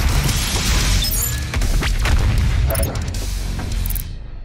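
The BFG-10000 fires in Doom Eternal on Mars, a heavy, sustained booming blast with rumbling low end and crackling bursts, under game effects.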